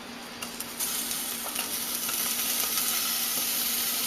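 Onion and chili powder stirred in a hot pan, a steady close sizzle with faint scraping throughout, no voices.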